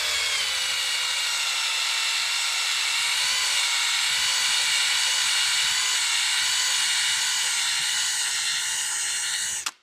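A drill spinning an eraser wheel against a car body to strip badge adhesive gives a loud, steady, high whine with a rubbing hiss. It holds evenly for nearly ten seconds, then cuts off abruptly.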